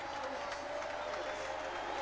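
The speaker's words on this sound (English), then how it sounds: "Listen to the crowd." At Monza during the Italian Grand Prix, a large crowd cheers a Ferrari 1-2 finish with a distant, continuous roar of applause and shouting that does not change across the clip.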